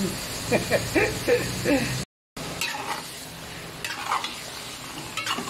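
Parboiled pork going into a frying pan with onions for menudo, stirred with several scraping spoon strokes over a sizzle, broken by a short silent gap before the stirring and frying carry on.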